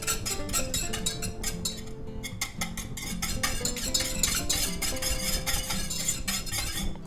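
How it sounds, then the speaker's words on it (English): A whisk clatters and scrapes steadily against a bowl, beating egg yolk, water and lemon juice together for hollandaise sauce; the rapid metallic ticking runs continuously and close up with no talking. "Now we're going to go ahead and whisk that together."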